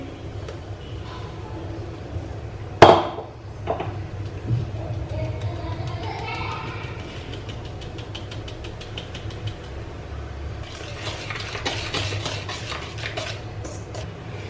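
An eggless vanilla cake batter is stirred in a bowl, with a sharp clatter of utensil against the rim early on, then soft scraping and a run of quick light taps, close and quiet, with someone talking briefly.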